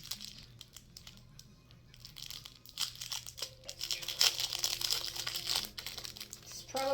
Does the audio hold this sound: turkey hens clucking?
no